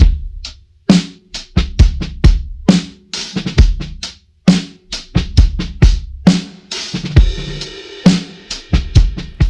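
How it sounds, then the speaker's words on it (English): Live drum kit captured with just a kick drum mic and an overhead pair of ribbon mics, run through tape saturation; punchy kick and snare hits with cymbals in a steady groove, loud and close, no talking. "So I just set a kick drum mic and an overhead mic up using Cole's 4038s"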